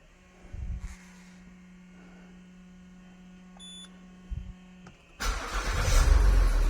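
A low electrical hum and a faint beep, then a car engine cranks and roars to life, loud and close, revving up at the end.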